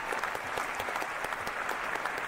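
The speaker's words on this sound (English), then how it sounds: "Give yourself a nice round of applause." Steady burst of crowd applause played as an effect during a Rocket League stream, dense continuous clapping at an even level throughout with no talk over it.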